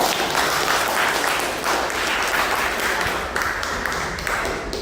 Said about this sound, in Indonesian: Kita beri aplaus dulu untuk teman-teman.